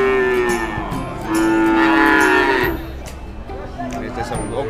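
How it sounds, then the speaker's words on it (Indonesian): Limousin cattle at the Wirosari cattle market in Purwodadi give long, loud, drawn-out moos, two overlapping calls close by, over a murmur of market crowd and chatter. "Ini ada sapi limusin ini. Ini sapi limusin."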